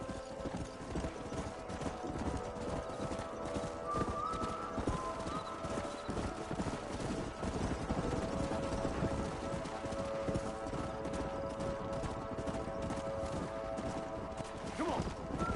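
Horses clip-clop continuously in the Western video game Red Dead Redemption, hooves beating in a rapid, even rhythm close up over a steady ambient bed, with character voices talking in between.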